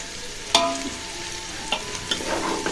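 Food fries in a pan with a steady low sizzle, broken by a few sharp metal clinks of a stirring utensil.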